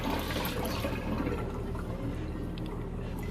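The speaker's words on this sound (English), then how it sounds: "Okay, so now it is actually draining." A Magic Chef 1.6 cu.ft. portable washing machine drains water, a steady close rushing and gurgling stream running continuously without pause and with no talk.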